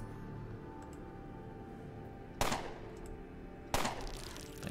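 Two separate sharp, loud assault rifle bursts in the Underrail video game ring out about a second apart over a quiet, humming game background.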